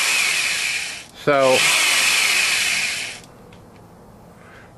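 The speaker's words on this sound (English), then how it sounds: "now I can just hit the trigger on my drill motor and rotate" A handheld drill motor turns a rotary table for cutting round graphite molds, a loud steady whirring grind that runs for about three seconds and then stops, with a brief spoken word in the middle.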